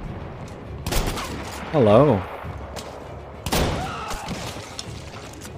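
Close-range shotgun blasts in Battlefield 1, two loud sharp booms a couple of seconds apart with a brief game voice between them.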